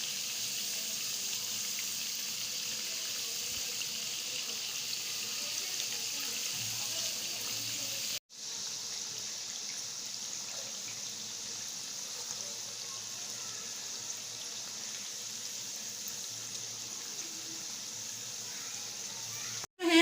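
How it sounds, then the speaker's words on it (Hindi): Chicken pakoras deep frying in hot oil at medium-low heat, giving a steady, close hiss and crackle that runs almost unbroken, with one brief dropout partway through and no talking. "और आपने ऐसे ही मीडियम लो पे फ्राई करना है ताकि ये अंदर से अच्छी तरह से पक जाएं।"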